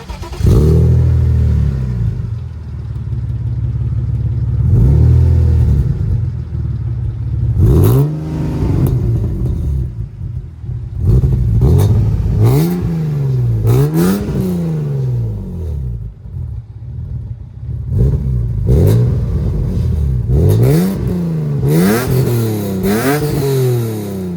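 A BMW E36 320i fitted with a swapped 328i engine starts and is revved repeatedly, loud and close, each rev sweeping up and falling back in rhythmic bursts over a rumbling idle.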